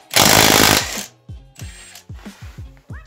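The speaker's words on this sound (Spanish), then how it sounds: "Así es que procederé a retirar esa tuerca. Ahora quito la tuerca. Es medida 21 milímetros." A burst from a pneumatic impact wrench loosening a 21 mm nut on the engine mount of an Italika ATV150 quad, followed by several short metallic rattles and clicks nearby.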